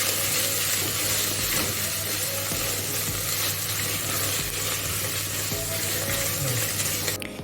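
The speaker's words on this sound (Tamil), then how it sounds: "இப்போ இதை நல்லா வதக்கிக்கலாம்." Mint and coriander leaves sautéing in a pan for mutton keema kanji, giving a dense, continuous loud sizzle with occasional stirring scrapes throughout.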